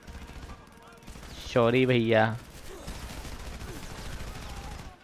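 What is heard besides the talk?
gunfire in video game Frontlines: Fuel of War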